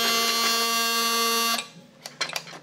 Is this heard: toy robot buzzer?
yes